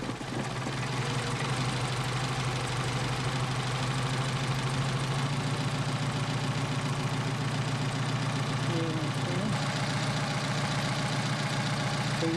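A Mercedes 190SL engine with Solex PHH44 carburetors idles at a steady, loud, close-up rumble with an even mechanical clatter throughout.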